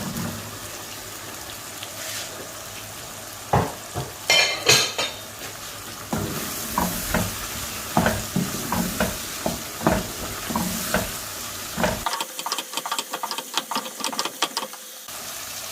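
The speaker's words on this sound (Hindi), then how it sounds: "मसाला अच्छे से भून लिए। अभी मैं इसमें बैंगन डालूंगी।" Eggplant frying in masala in a pan, steady sizzling under repeated scraping and clanking of a spoon stirring against the metal, ending in a quick series of taps.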